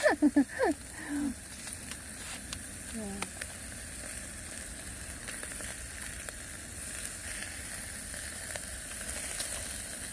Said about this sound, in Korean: 고기 굽는 소리